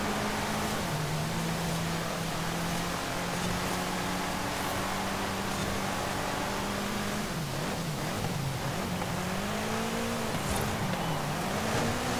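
All-wheel-drive car in Forza Horizon 5 crossing rough ground in the rain, with a steady engine drone that wavers and dips in pitch midway over a constant hiss of rain and tyre noise.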